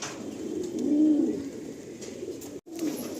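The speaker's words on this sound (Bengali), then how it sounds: "এরকম পায়রা প্রচুর আছে লফটে।" Pigeons in a loft coo softly and close by, a low rolling coo swelling and fading over a few seconds against faint background.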